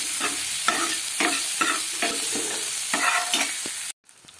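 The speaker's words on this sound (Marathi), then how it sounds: "सो आता मी त्याच्यात टाकते अद्रक लसूणची पेस्ट। ती पण मिक्स करून घ्यायची चांगली।" Ginger-garlic paste sizzles and fries in a pan while being stirred for a ghevda (flat bean) bhaji, with repeated scraping strokes in a steady rhythm over constant frying hiss, ending abruptly.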